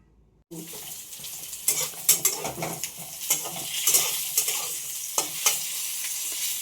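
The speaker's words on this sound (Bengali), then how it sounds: "তো পটল তো ভাজা হয়ে গেছে, সাথে ওই একটা তেজপাতা ফোড়ন দিলাম, আর এখন মশলাটা দিয়ে দিলাম সর্ষে, পোস্ত, নারকেল বাটা" Fried pointed gourd sizzles in a pan with a bay leaf and a ground paste of mustard, poppy seed and coconut, with repeated scraping and clinking stirring strokes over a steady frying hiss, close and fairly loud.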